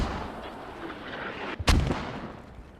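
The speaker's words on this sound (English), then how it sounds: "Mortars come down just to the north." Mortar shells land in a tactical shooter game match as a single sharp, heavy impact blast that cuts through a constant rushing background, followed by a brief rumbling decay.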